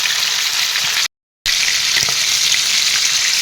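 Fish pieces frying in hot oil in a pan, giving a steady, close, loud sizzle that runs on with no break in its character except for a brief total dropout, along with a few faint scrapes and no voices.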